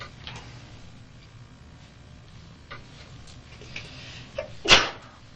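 A single sharp sneeze bursts out near the end of an otherwise quiet room, preceded only by faint scattered ticks and small handling noises.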